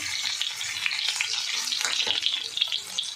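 Finely chopped onion sizzles in hot oil and butter for pav bhaji, a steady, close crackling hiss that lasts the whole short stretch.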